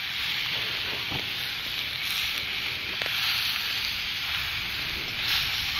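Steak sizzles steadily in a preheated pan, a constant bright hiss of frying fat with faint pops, close and even throughout with no talking.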